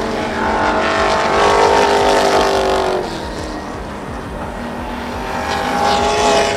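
Race cars roar around an oval track in a loud, continuous pack, engines droning near and steady, with a brief dip as cars sweep past before the roar builds again.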